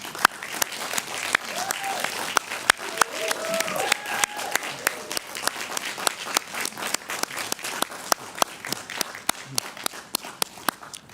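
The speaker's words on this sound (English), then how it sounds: "How about a very nice, warm round of applause for all of our outstanding students" Warm audience applause for graduating students at an awards ceremony in a hall, sustained crowd clapping with distinct sharp individual claps standing out, and faint voices beneath.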